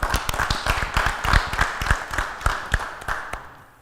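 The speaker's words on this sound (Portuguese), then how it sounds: "Vamos aplaudir o Mauro!" A studio audience at a round-table afternoon show claps in a quick, uneven burst of close hand claps that thins out and fades toward the end.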